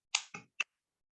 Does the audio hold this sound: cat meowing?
no